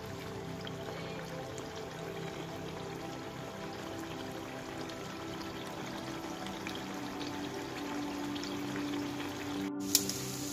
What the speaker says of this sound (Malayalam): ഒരു പാൻ അടുപ്പിൽ വെച്ച് അതിലേക്ക് കുറച്ച് സൺഫ്ലവർ ഓയിൽ ഒഴിച്ച് നമ്മുടെ ചെമ്മീനെല്ലാം അതിൽ നിരത്തി